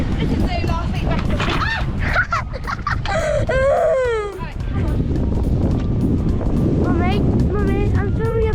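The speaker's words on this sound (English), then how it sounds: "Why is it so windy?" Gusty wind buffets the microphone with low rumbling roar while voices talk over it, a voice among them.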